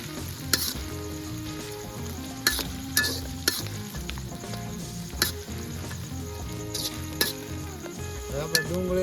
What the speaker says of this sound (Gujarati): હવે એને આપણે હલાવવાનું છે, બધા મસાલા મિક્સ ચડી જાય એવી રીતે